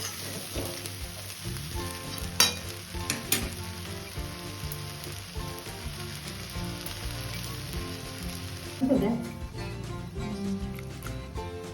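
Frying for coconut chicken pulao in a pan, a faint steady sizzle and crackle throughout with a few brief louder clinks and a short scrape near the end.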